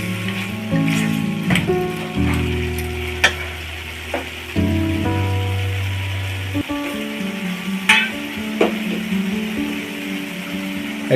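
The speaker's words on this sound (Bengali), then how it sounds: "কষানো হয়ে গেছে, মাছ ভাজাগুলো দিয়ে দিলাম।" Poa fish pieces, already fried, sizzle loudly in a pan of thick spiced masala for a stew, with steady frying crackle, a few sharp spoon clinks and stirring scrapes over a low humming hob.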